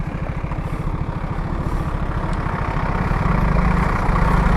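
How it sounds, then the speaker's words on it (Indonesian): A jeep engine idles steadily with a low, rumbling pulse, growing slightly louder and rougher toward the end, at a rural visitor spot in Meru Betiri National Park, Banyuwangi. "Wow, masih ada lagi jeep."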